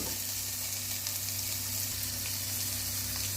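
Cut carrots stir-fried in a pan for vegetable mixed sambar, a steady close sizzle with soft stirring scrapes throughout, no voices.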